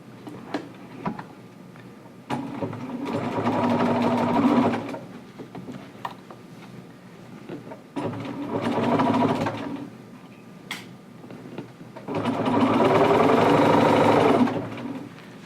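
A sewing machine stitching fabric in a beginner sewing class runs in three bursts of a few seconds each, whirring steadily between quiet pauses filled with small clicks and handling noises.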